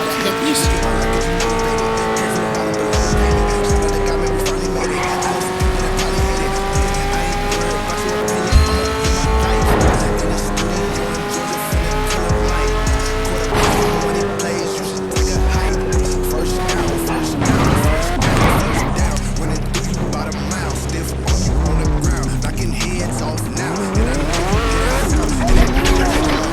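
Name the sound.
car accelerating with tires squealing in video game Gangstar IV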